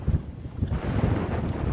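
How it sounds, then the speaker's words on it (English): Strong wind buffets the microphone in heavy, low rumbling gusts, loud and steady throughout with no voices. "It is exceptionally windy"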